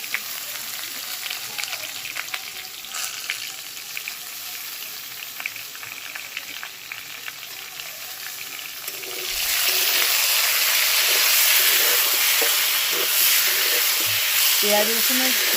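Onion paste goes into hot oil in a pan while cooking a Bengali bhetki fish chachchori, and a low background hiss suddenly jumps to a loud, dense, steady sizzle that carries on to the end.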